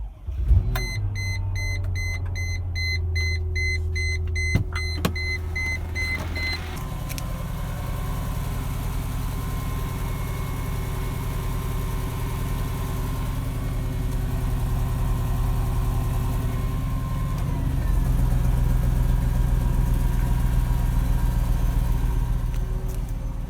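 Mercedes ML55 AMG V8 with its secondary catalytic converters deleted starts cold: a few warning beeps, then the starter catches and the engine settles into a loud, rumbling fast idle that deepens and swells toward the end.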